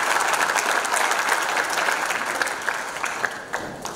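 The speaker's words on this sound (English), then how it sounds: "I think you all deserve a big round of applause." A conference hall audience at an Aakash Institute event honouring NEET champions breaks into loud, dense applause that holds steady, then thins into scattered individual claps as it dies away.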